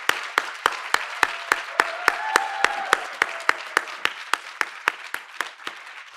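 Audience at a community Changemaker awards celebration clapping for an honoree: a string of crisp, evenly spaced claps at a brisk steady rhythm, fairly close, with a faint murmur underneath.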